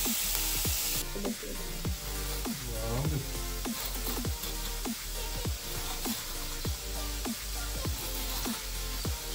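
Chopped onions fry gently on a simmer for a ridge gourd curry, a steady soft sizzle with a regular series of scraping stirs and utensil taps throughout.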